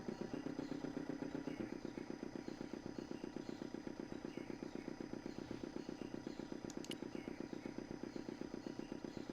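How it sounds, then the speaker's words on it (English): An in-game boat motor in Broken Sword 2 sputters to life and settles into a steady, rapid chugging idle that runs evenly throughout, with a brief faint metallic clink partway through. "The motor spluttered into life."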